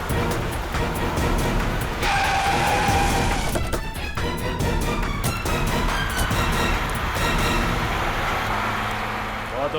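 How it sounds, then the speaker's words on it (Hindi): A car speeds off during a chase through a road scene, its engine roaring loud and close with a surge of revving amid surrounding traffic noise. "ये नेहा तो गाड़ी भगाने लगी।"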